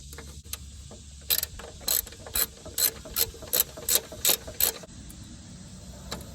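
Ratchet clicks in nine rapid, evenly spaced bursts while a small bolt is tightened on the front ABS speed sensor of a Honda Element, close and crisp against a quiet background.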